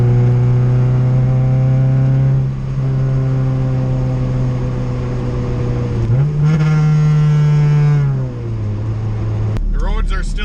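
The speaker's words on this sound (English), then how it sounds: "The exhaust seriously comes right in the car." A Honda with a B20 VTEC engine drives with a loud, droning exhaust that holds steady, surges briefly as revs climb, then drops back, with a hole in the floor letting exhaust noise into the cabin.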